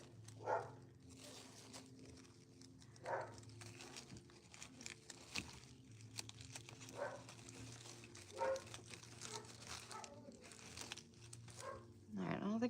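A dog barks in short, repeated bursts at a distance, spaced a few seconds apart indoors, over a low steady hum.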